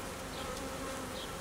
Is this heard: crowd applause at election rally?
no